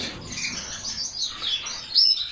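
Bright chirps and tweets from several birds, a dense steady chatter with one sharper call near the end.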